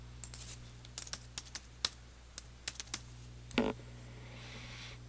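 Search words typed on a computer keyboard: scattered quiet key clicks in short irregular bursts, then a louder clatter near the end, with no voices.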